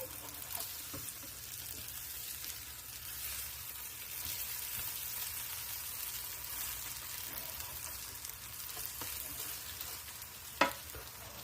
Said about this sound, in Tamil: மற்ற பக்கமும் பொரியா விடுங்க